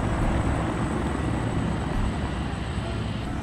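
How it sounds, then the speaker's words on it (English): Helicopters fly in the video game Far Cry 6, a steady, loud rotor and engine drone that fills the whole stretch without letting up. "We got choppers."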